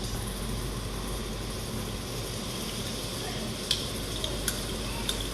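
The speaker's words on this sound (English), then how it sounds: "when you want to fry anything with chili also, you should put your chili before it gets very hot" Chili fries in a hot pan at a live cooking demonstration in Kuala Lumpur, a faint, steady sizzle with a few small pops and clicks near the end.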